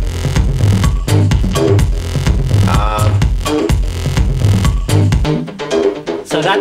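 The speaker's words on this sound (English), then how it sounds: "So that sound was the 808 or the 909 through my vocoder." An 808 or 909 drum machine runs through a 1970s SVC 350 vocoder, producing loud, continuous electronic music with punchy, steady beats and a warbling, sweeping robotic tone in the middle.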